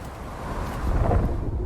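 Thunder from a storm in the video game Unknown 9: Awakening rolls as a low, swelling rumble with wind-like noise, building toward the middle of the clip without any speech.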